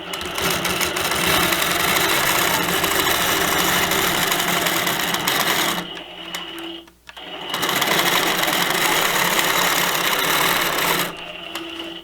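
A longarm sewing machine stitches binding onto a quilt, its loud, steady mechanical whir running close up, dropping out briefly in the middle, then resuming until a short stop near the end.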